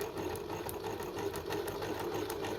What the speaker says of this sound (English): I'm going to sew, like I said, from corner to corner